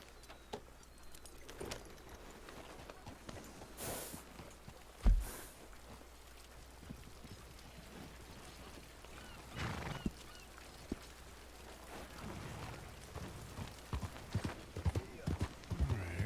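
Horse hooves clip-clopping at speed in a video game, a quick rhythmic patter of hoofbeats with a couple of louder bursts and scattered game noises, fairly quiet and close.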